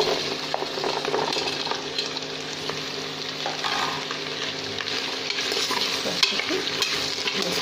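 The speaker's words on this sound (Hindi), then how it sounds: "अब हम इसमें सारी गाजरों को डाल देंगे।" Grated carrots sizzle in melted ghee in a pan for gajar ka halwa while being stirred. A steady frying crackle is broken by soft scraping and clinks from the spoon, with no talk.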